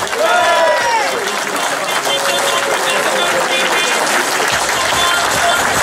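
Outdoor crowd applauding the SSV class podium finishers at the Rallye Plaines & Vallées, steady sustained clapping filling the whole stretch, with cheering voices and an announcer-like voice rising and falling over it.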